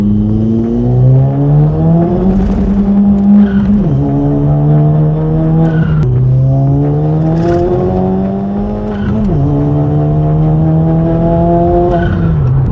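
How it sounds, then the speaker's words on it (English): A Stage 3 VW Scirocco under heavy boost, its engine roaring loud and close as revs climb repeatedly through gear pulls, with wheelspin and tire squeal mixed into the sustained rising drone. "Even with the anti-lift kit and some good tires, this thing is spinning up"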